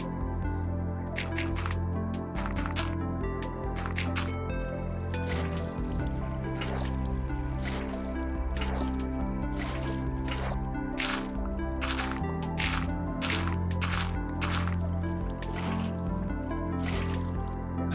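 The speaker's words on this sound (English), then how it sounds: "that is to fill this entire area with water" Water fills an area in Minecraft with a steady watery wash and repeated dripping, splashing pops, over a continuous dense background bed, with no talking.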